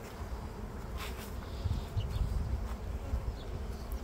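Honeybees in an open hive hum steadily at close range in a low, dense drone, with individual bees buzzing past now and then.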